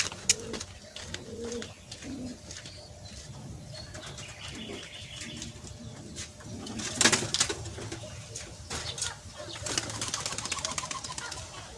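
Soft, low racing pigeon coos repeat at intervals outdoors, with a burst of wing flapping partway through and light chirps in the background.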